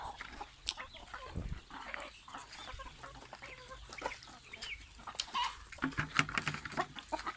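Breeder chickens on a farm cluck and squawk nearby in irregular bursts, fairly quiet, with barnyard background noise and no talking.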